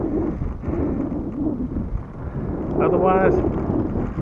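Wind buffets the microphone outdoors on a ride with a Trek FX 3 bicycle, a steady low roar running throughout, with a voice briefly speaking near the end.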